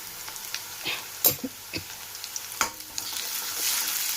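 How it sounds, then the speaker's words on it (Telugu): Softened onions fry with turmeric and ginger garlic paste under a low continuous sizzle, with several close scrapes and clacks of a stirring spoon at irregular intervals and no talking. "ఇప్పుడు మనం అందులోకి పసుపు యాడ్ చేసుకోవాలి అండ్ జింజర్ గార్లిక్ పేస్ట్."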